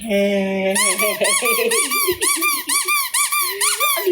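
A rubber squeak toy is squeezed repeatedly in a quick, rhythmic series of high, bright squeaks, loud and close, after a brief tonal note at the start.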